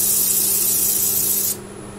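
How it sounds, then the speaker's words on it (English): Sandpaper rubbed by hand on a turned African blackwood piece, a steady loud hiss of abrasive strokes lasting about one and a half seconds before stopping, leaving a faint hum. "what I'm going to do is just get a bit of sandpaper on it, just to ease that size."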